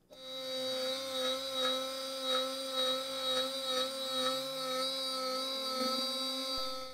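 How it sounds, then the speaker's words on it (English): A CNC machine mills aluminum for an all-metal dagger, cutting locating pin holes: a steady, loud whine with strong sustained tones and a faint rhythmic pulsing, running continuously for several seconds without talk. "I've had the CNC machine cut some locating pin holes."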